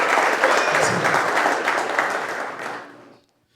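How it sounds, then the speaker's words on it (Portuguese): A church audience at a worship service breaks into warm, dense applause that holds steady for a few seconds and then tapers off quickly into silence. "eu quero pedir uma salva de palmas para o Celso e a Mônica"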